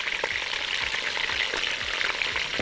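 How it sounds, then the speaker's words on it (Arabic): Garlic and meat sautéing in a pan for a Saudi lamb kabsa, a steady close-up sizzle with scraping stirs throughout, no talking. "تعالوا بينا ناخد البصل والثوم وندلهم تشويحة كده مع اللحمة"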